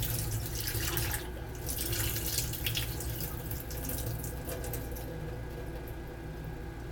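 Warm tap water runs steadily into a sink to wash raisins, a continuous broad splashing rush with faint drips and clinks mixed in and no talk.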